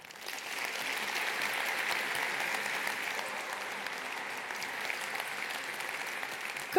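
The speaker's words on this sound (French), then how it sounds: "Nous pouvons les applaudir." Audience applauding at a keynote opening in a large hall: sustained, even clapping from a big crowd, moderately distant, lasting the whole stretch.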